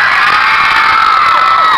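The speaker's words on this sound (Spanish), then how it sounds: "¡Venga, grito, chicas!" A crowd of girls in an expo audience screams and cheers loudly and continuously, a dense high-pitched wall of shrieks with a few rising and falling whoops near the end, with no talking over it.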